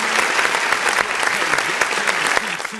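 An audience applauds after a rap verse at a rap battle, with dense, steady clapping and crowd noise filling the whole stretch, fairly loud and close.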